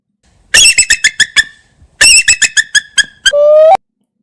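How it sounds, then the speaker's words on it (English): Bald eagle call: two rapid series of sharp, high, chattering squeals with an overtone-rich tone, separated by a short pause, then a sustained shrill squeal. Loud and close, with no voices. "So that's actually the sound of America. Like, the bald eagle."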